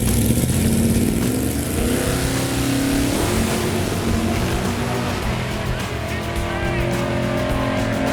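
A 1969 Buick Skylark drag car engine roars loudly and continuously through an acceleration run, pitch climbing in stages as it pulls, with voices talking underneath.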